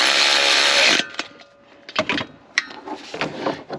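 Cylinder head bolts on a Hyundai engine are tightened in a crisscross pattern, opening with a loud whirring power-tool burst before a series of short metallic clicks and clanks from the wrench and bolts.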